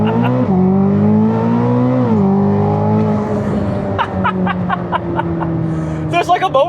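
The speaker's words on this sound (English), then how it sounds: "I'm gonna do launch control again because I want to." A Corvette ZR1 on a launch-control start roars hard under acceleration, its engine note rising and dropping through gear changes, loud and close inside the car, while someone talks over it.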